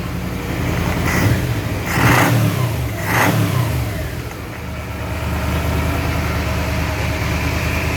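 A 1985 Yamaha Venture Royale motorcycle engine with an electric choke idles, then revs sharply three times under quick throttle blips before settling back into a steady, loud, close idle.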